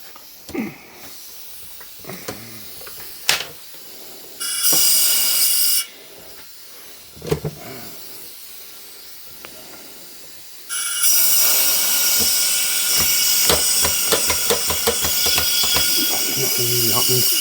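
A Locomobile steam car engine releases bursts of loud hissing steam, short blasts then a long sustained hiss, with clanking and tapping between them and someone talking nearby.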